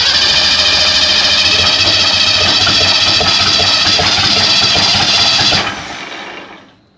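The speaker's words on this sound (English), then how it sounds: "Let's turn it over and make sure that oil pressure light comes off." A Ford Econoline travel wagon's engine, sitting unused for over 15 years and run without fuel, cranks over loudly with a continuous rapid starter churn for several seconds before winding down and stopping.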